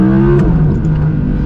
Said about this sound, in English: the sound of that V10 is just glorious